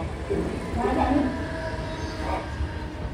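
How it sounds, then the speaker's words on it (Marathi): A crowded passenger train pulling in at a station platform, a steady low rumble with faint metallic squeals and clatter, and voices murmuring faintly in the background. "गाईज बघा ट्रेन आलं जस्ट"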